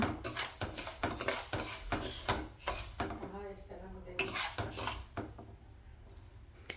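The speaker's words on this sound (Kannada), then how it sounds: "ಇವಾಗ ನಾನು ಬೇರೆ ಒಂದು ತಟ್ಟೆಗೆ ಹಾಕ್ಕೊತಾ ಇದ್ದೀನಿ" Roasted ragi being scraped from a pan onto a plate, giving repeated metallic scrapes, clinks and taps of utensil on cookware at close range, with a quieter stretch midway and no talk.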